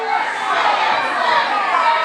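A wrestling crowd at an American Legion hall jeers and boos a heel called Commander Darkside after he insults the USA, a steady, dense wash of voices filling the room throughout.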